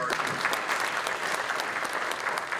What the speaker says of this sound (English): One more round of applause for our